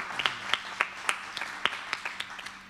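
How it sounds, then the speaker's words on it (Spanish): Sparse, quiet clapping from a small audience at an academic presentation, a handful of distinct claps spaced out over a couple of seconds. "para quien le pido un aplauso también."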